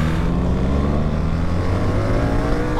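A BMW R1300 GS motorcycle accelerates hard into a wheelie, its engine note climbing steadily and loudly with continuous droning harmonics and rushing wind, with no talk.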